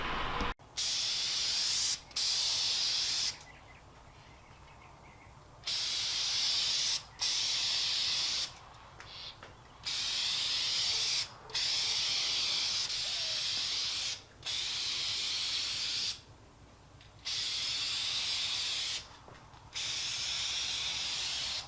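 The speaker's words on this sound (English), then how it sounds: "So I'm going to spray this now" Repeated bursts of aerosol spray paint hissing loudly up close on a 1999 Mitsubishi Montero part, each lasting one to three seconds, separated by short quiet pauses.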